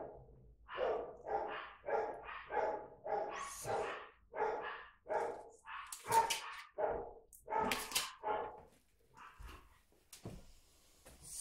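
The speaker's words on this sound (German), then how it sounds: "Die Hunde flippen aus, weil es die Post läutet gerade." Several dogs bark excitedly indoors as the mail carrier rings, a rapid, steady run of loud barks and yips with a few whimpers and no speech over them.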